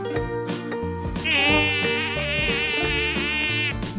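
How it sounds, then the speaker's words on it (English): A mosquito buzzing: a thin, whining drone that holds steady for over two seconds, close and clear above light background music. "Mosquito."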